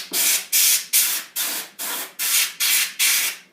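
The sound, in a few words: spraying dust out of computer fan opening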